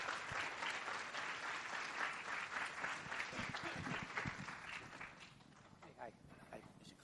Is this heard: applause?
yes